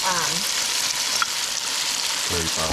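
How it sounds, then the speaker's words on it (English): Curry powder going into a hot pan of sizzling shrimp and potatoes, with a loud, constant close frying hiss. Brief bits of talk come at the start and near the end. "I'm gonna add the curry,"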